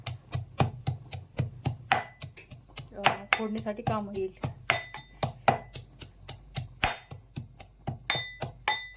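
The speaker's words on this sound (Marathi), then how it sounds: "खलबत्त्यामध्ये मी लसूण सोललेला आहे आता याला आपण ठेसून घेऊ" Peeled garlic is pounded in a mortar and pestle, sharp rhythmic thuds repeating steadily and close by, about three per second, with someone talking briefly over the strikes.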